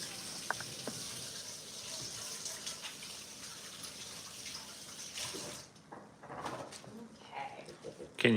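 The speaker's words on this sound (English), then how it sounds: "I'm gonna wash my hands" Running tap water gushes steadily while hands are washed in a kitchen sink, a fairly soft continuous rush that fades and shifts near the end, with a voice speaking briefly.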